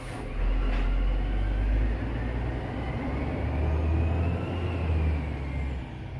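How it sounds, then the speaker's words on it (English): A dump truck passes outside, a loud, steady low rumble of heavy engine and road noise that holds for about six seconds with no talk over it. "I felt like I was shouting over the dump truck"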